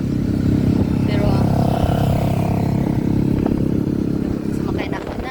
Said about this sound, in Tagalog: sumakay na ako ng motor